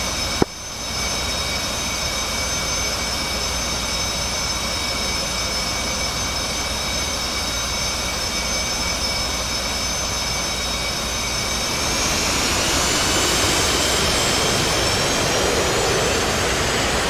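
Jet engines roar steadily as naval aircraft sit on a carrier deck in the DCS World flight game, a loud continuous whine and rumble that swells louder near the end as thrust builds for takeoff, with no talk over it.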